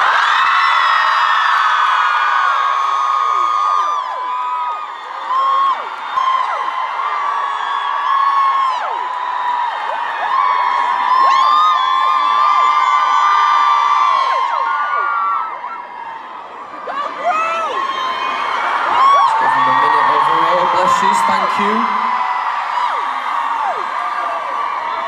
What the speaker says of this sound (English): we're gonna give a big, big old crew cheer on three